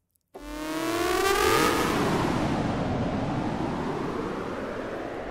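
A cyber siren sound effect from a Serum synth patch in an urban library starts with swooping, sweeping tones that fan out into a loud, sustained noisy wash lasting several seconds.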